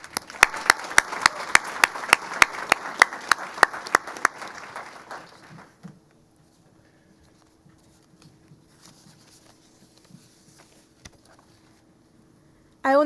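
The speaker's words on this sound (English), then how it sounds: "just one more round of applause I'd like to have for both our wonderful staff nominees" An audience at the 2015 Women's Achievement Program ceremony gives a loud round of applause for the staff nominees, with sharp claps for about five seconds before the room falls quiet.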